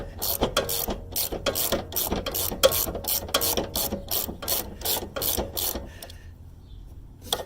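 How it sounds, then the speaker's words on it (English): A ratchet unwinds a long 17 mm bolt on a Honda Civic Type R during rear upper control arm replacement, giving a fast, steady run of close clicks that stops near the end. "So yeah, just keep winding this all the way off."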